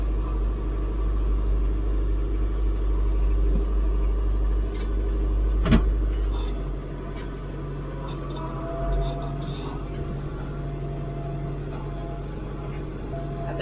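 A tractor engine runs in second gear at mid-range throttle while pulling a tiller, a steady loud low rumble that shifts to a slightly lighter drone partway through, with a brief knock midway.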